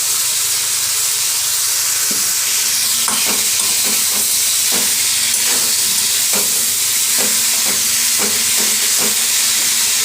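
Loud, continuous hissing sizzle of drumstick (moringa) stems frying with potatoes and eggplant in a pan, broken by repeated stirring scrapes and clatters at an uneven rhythm.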